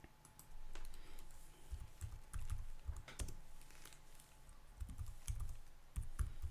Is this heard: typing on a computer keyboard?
yes